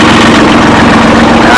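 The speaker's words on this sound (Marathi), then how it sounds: "ट्रॅक्टर चालू करायचं आहे, कोल्ड स्टार्ट." A tractor engine on a farm, cold-started and running loud and close with a steady, throbbing low rumble that fills the whole short stretch.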